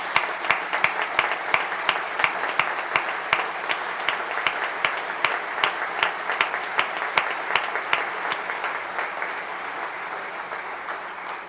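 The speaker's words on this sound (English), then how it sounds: "Students, give yourselves a round of applause." An audience at the Michigan governor's 2026 State of the State address applauds students, producing sustained, dense clapping throughout with sharp individual claps standing out, loud and steady before tapering slightly toward the end.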